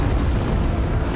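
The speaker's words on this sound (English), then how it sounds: "Wow, that was a cool explosion effect." A deep, rumbling explosion from an animated series fills the clip, loud and sustained with a heavy low-end roar and no talking.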